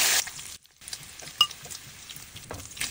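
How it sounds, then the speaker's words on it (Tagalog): Bacon sizzles in a dry stainless steel pan with no added oil, a steady close frying hiss that drops away briefly near the start before resuming with faint scrapes and pops. "let's get that bacon sizzling until crispy"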